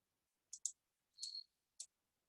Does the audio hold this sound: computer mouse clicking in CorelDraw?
yes